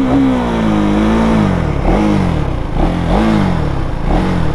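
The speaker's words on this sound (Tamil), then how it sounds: "எக்ஸாஸ்ட் நோட் கேட்குறீங்களா?" A KTM Duke 390 Gen3 motorcycle revs up and down close by, its exhaust rising and falling in several loud, throaty pulls with no talking.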